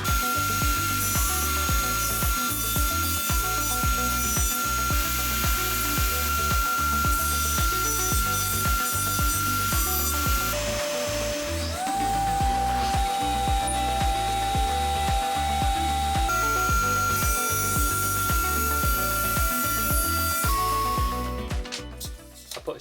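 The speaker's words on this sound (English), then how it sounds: "I cut them down to a rough size and then started planing them up." Rough-cut pieces of old oak gate post are fed through a power planer, a loud running motor with repeated rhythmic cutting thumps and a shifting machine tone, with no voices.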